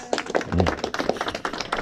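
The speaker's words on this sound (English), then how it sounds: "Give these two wonderful people a round of applause" A small group at a roadside attraction claps by hand in a short, uneven patter of close individual claps, fairly light rather than a full roaring ovation.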